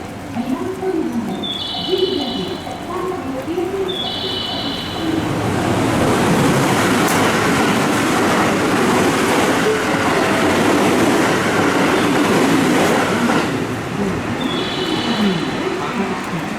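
A JR West Kyoto Line train pulls into Suita Station, its rumble and wheel clatter building loud and close through the middle, with repeated electronic platform chimes and chirping birds before and after.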